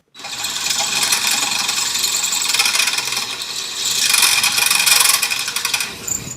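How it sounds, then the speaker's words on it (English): A drill bit grinds steadily into material while fitting half doors and a grab bar on a Polaris Ranger, a loud continuous rasping whine that swells slightly toward the end before stopping. "This, by the way, is a not expensive, good drill bit."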